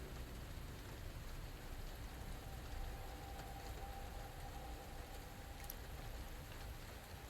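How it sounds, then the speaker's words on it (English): Steady rain patters continuously at a low, even level in the video game Resident Evil 2, with a faint engine-like hum in the background and no voices. "Like the background, like rain sound?"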